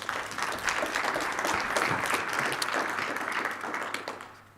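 Audience applause at an energy conference session on decarbonized transport, a full room clapping steadily and fairly loudly before tapering off at the end.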